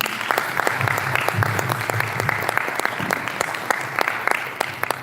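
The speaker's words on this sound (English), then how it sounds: "please put a big round of applause together for my esteemed panelists" An audience at a cyber security summit in Abu Dhabi applauds its panelists on stage: steady, dense clapping from a sizable crowd fills the room, with a few sharper individual claps standing out near the front.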